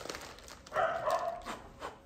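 A dog barks in the background, a few short yapping barks at moderate distance, over a quiet room.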